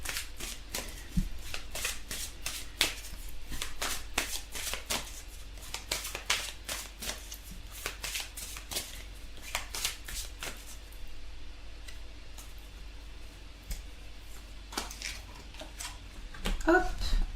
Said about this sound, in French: Alors, on va tirer une carte conseil pour compléter ce tirage.